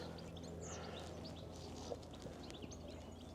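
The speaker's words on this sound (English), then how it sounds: "All you can hear is the birds singing." Scattered chirps and tweets from several birds on a British countryside walk, faint and distant, over a steady low hum of background noise.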